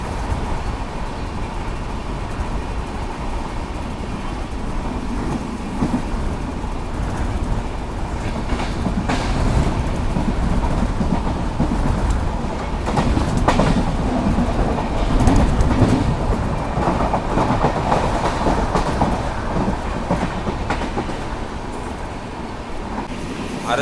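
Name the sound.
express train running on rails, clickety-clack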